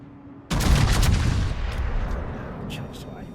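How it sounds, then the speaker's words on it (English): Warship main guns fire in a single heavy salvo in World of Warships, a loud sudden boom that rolls into a long decaying rumble, with fainter distant shots following. "Shoot the guns."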